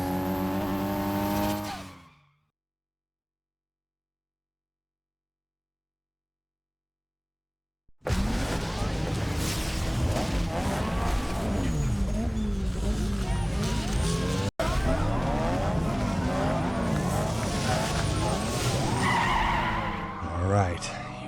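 Street racing car engines roar and tires skid in Need for Speed Underground 2, loud and continuous after a brief opening tone and several seconds of silence, with talk over the race.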